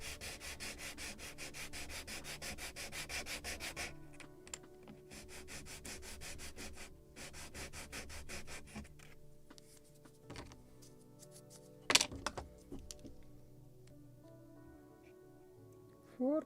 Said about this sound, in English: More sanding on the upper edge because it is thicker here